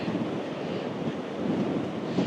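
Ocean surf near Dublin, Ireland rushes and churns steadily while gusty wind buffets the microphone, a constant roaring wash of noise.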